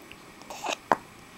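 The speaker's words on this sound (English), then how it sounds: "Oh, burping. Oh, more burping." A baby burps twice, a soft short one followed by a louder, sharper burp about a second later, close and in a quiet room with no talk.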